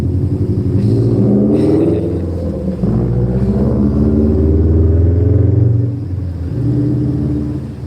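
A car rumbles past close by, a loud, sustained engine drone that swells and then eases off over several seconds.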